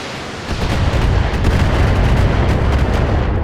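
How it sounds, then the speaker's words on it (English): A mech missile launch and explosions in the BattleTech video game: loud, dense rumbling booms and blasts roll continuously for a few seconds, with no talk. "Launches his missile at the turret"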